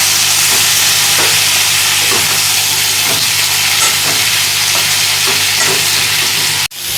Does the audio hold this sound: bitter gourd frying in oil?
yes